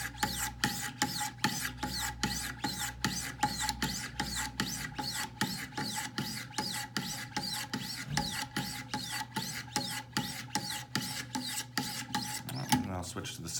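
A Hinderer knife heel is stroked vertically on Wicked Edge sharpening stones, giving a steady run of regular rasping scrapes, close and clear, with no talk.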